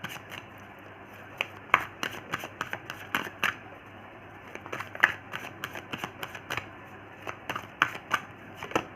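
Tarot cards are shuffled by hand up close, a run of crisp, irregular riffles and flicks with faint snaps between them in a quiet room, and no voices.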